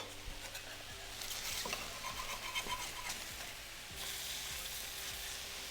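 Vegetables dry-cooking in a pan without oil alongside garlic, a faint steady sizzle with soft scraping and stirring knocks at irregular intervals.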